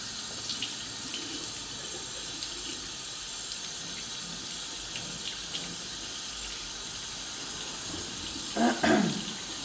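Lukewarm water runs steadily from a tap while hair is rinsed during a salon hair-bleaching session, a constant soft wash with a brief louder splash near the end; no one speaks.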